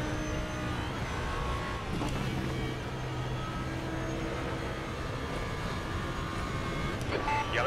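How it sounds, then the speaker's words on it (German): A GT3 race car roars through a lap in the RaceRoom racing game, its steady engine drone sustained and loud throughout, with shifting pitch as it accelerates and brakes, and no talk over it. "So, alles in allem fährt sich das Auto echt gut."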